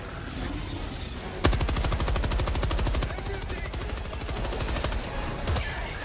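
Rapid machine gun fire in the video game Helldivers 2 during a bug-fighting mission: a sustained, fast, evenly spaced burst of loud shots starts suddenly and runs about four seconds, with a voice talking underneath.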